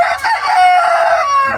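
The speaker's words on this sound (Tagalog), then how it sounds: "Daming manok." Chickens on a Philippine farm, one loud close crow stretching out over a short burst, with faint clucks and other birds behind it.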